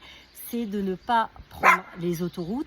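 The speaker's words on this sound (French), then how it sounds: "c'est mon chien qui attend sa balle." A dog waiting for its ball gives several short barks and yips interleaved with someone speaking French, the barks fairly close and as loud as the speech.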